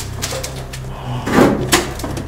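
A locked door in an abandoned kindergarten is tried, giving a few close knocks and a rattling thud as it is pushed and pulled without opening.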